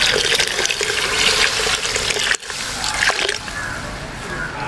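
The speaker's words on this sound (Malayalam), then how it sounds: "അല്പം വെള്ളം ചേർത്ത് കൊടുക്കുന്നുണ്ട്" Water pours into a fish curry pan, a loud, close splashing gush that runs for a couple of seconds, breaks off briefly, then resumes more softly as trickling liquid.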